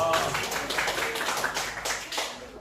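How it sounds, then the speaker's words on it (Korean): Scattered clapping from a church congregation at a Sunday service, a short burst of overlapping hand claps with no voices, moderately near. "박수"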